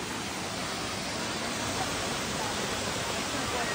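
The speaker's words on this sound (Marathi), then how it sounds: "आता आपण आलोय माऊ धबधबा. पोचलोय आपण वॉटरफॉलला." Mau waterfall near Pune roars as a steady, dense broadband rush of falling water, close and constant throughout with no pauses.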